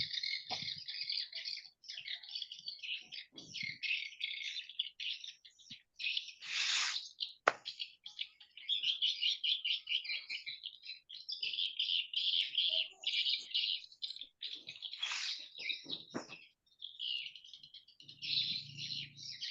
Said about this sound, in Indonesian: Di sini terdengar kicauan burung.